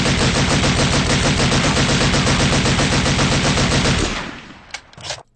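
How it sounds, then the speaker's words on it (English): A Thompson submachine gun fires a long, rapid, unbroken burst of sharp, evenly spaced shots, loud and close, which cuts off after about four seconds into a few scattered trailing clatters and echoes. "The assault team was more heavily armed and carried Thompson machine guns, BARs,"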